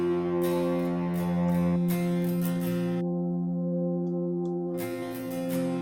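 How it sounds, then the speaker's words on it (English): The Spiritual Vibes synth pad from the Logic Worship Presets pack holds warm, sustained chords, with a soft shimmering upper layer that drops out briefly and then returns. "I added this Spiritual Vibes pad, which is out of my Logic Worship Presets pack."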